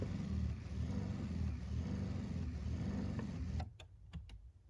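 Electric adjustable brake pedal motor on a Jeep WK, bench-tested after repair, whirs steadily and fairly close for about three and a half seconds, then stops abruptly, leaving a few faint clicks.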